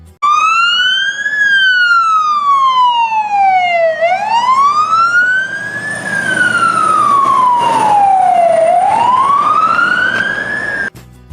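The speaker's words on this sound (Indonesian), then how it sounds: "ada truk damkar." Fire truck siren wailing loud and close, its pitch sweeping slowly up and down in long continuous cycles, heard alone without talk.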